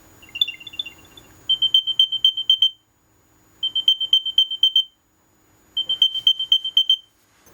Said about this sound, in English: This is the sound the AirTag 2 makes when you alert it